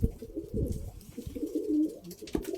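Pigeons coo repeatedly in low, throaty murmurs close by, with soft rustling and a brief sharp noise near the end.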